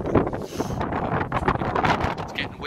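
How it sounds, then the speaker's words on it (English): Gusty wind buffets the microphone with a steady rough rumble, while someone talks underneath. "It's getting windy now, as you can probably hear."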